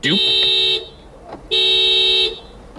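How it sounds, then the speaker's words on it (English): A car alarm blares nearby in two long, loud electronic blasts separated by a short pause, with a voice talking around it. "Fucking car alarm."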